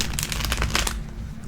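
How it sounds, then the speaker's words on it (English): Tarot cards are shuffled by hand, giving a steady run of quick papery riffles and crinkling flicks for over a second before they thin out, close and fairly soft, with no voices. "I'm going to shuffle again a couple more times in front of the camera just so you can see this."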